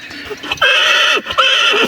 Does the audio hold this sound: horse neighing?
yes